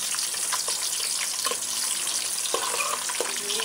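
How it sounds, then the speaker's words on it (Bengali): Chopped onions fry in hot oil with garam masala in a pan, giving a steady, close sizzle with a few faint clinks and stirring scrapes. "এটা একটু হালকা স্মেল বের হলে এতে দিয়ে দিব পেঁয়াজ কুচিগুলো দিয়ে দিলাম।"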